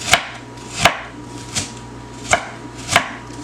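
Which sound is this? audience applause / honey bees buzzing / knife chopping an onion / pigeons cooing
knife chopping an onion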